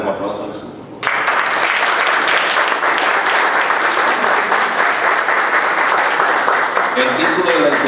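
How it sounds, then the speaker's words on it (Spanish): A church congregation at an evangelical ministry service in Miami bursts into loud, sustained applause after a quiet start, many hands clapping densely and evenly until the end, with a voice faintly audible beneath. "Dale un aplauso a Jesús."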